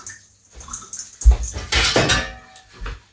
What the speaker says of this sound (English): Take your pan, put the pan on it.